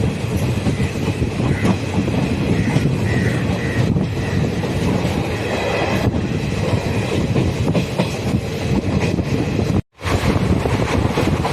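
A passenger train on the Trichy to Tambaram line rolls through Budalur railway station, with a loud, steady rumble, rhythmic wheel clatter and wind buffeting, and a brief dropout near the end.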